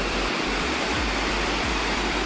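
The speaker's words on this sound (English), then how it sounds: "foggier than ideal, but still a pretty cool waterfall" Stokoe Falls near Cherokee roars as a steady, broadband rush of falling water on a foggy day, close and loud with no voices, just low thumps beneath the constant wash.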